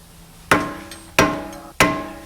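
A hammer smacks an axle nut down into the groove of an old CV axle with three loud, evenly spaced metallic strikes, each ringing briefly before fading.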